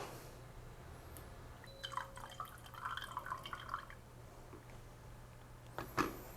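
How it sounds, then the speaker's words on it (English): Cold brew coffee being poured from a press into a cup, a soft, close trickle and splash of liquid in a quiet room, with a brief louder splash near the end. "Pour into your cup."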